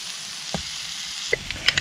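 Rice fries in a pot over a campfire with a soft continuous sizzle, broken by a few light scrapes and taps from stirring near the end, close and without speech.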